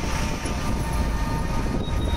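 A train rumbles along a railway line below the Tonk Phatak road bridge in Jaipur, a steady, moderately loud rolling noise heard from above, with no talk.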